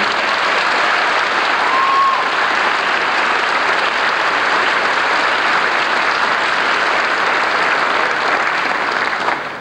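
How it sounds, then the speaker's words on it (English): A large crowd at a 1991 high school graduation ceremony applauds the graduating class, a loud, sustained wash of clapping that holds steady for nearly ten seconds. "Let's give a round of applause to this outstanding class."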